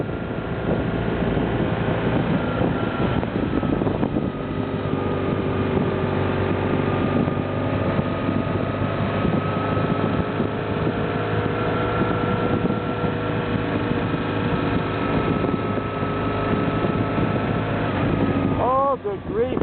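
Motorcycle ride through the Black Hills, with steady engine drone and heavy wind buffeting the microphone throughout, loud and continuous from start to finish.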